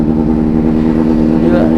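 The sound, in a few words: motorcycles revving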